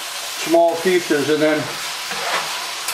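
Fairly fatty ground beef hamburger sizzles as it browns and is broken into small pieces in a pan, a soft steady frying hiss under a man's brief speech near the start.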